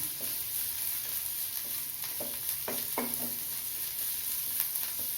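Onions sautéing in a pan for mutton curry, a steady hiss of frying with a few faint stirring taps, quiet and continuous.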